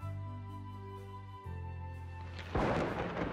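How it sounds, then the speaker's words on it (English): Thunder cracks on a stormy night, a sudden loud burst of noise breaking in over a sustained musical tone near the end. "a terrible stormy night filled with lightning and thunder struck the kingdom"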